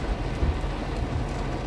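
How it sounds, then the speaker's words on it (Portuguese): Heavy rain pours down in Campinas, Brazil, a steady dense roar of falling water with a deep rumbling undertone and no pauses. "Chegou a chuva que o alerta mandou pra nós."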